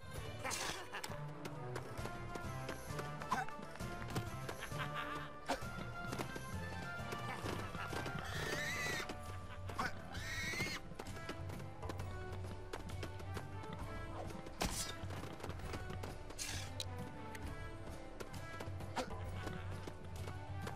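Horse hooves clip-clop in the Lego Pirates of the Caribbean video game at Tortuga, with several neighs and whinnies. The steady hoofbeats sit under busy game music and effects throughout, and no words are spoken.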